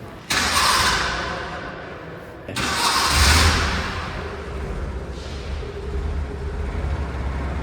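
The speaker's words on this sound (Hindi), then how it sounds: "काफ़ी दिन हो गए हैं इसके इंजन साउंड सुने में, तो हो जाए सेल्फ इसको" A 1997 Suzuki Mehran engine, unstarted for many days, cranks with a short starter whir, cuts out, then cranks again and catches into a steady idle rumble nearby.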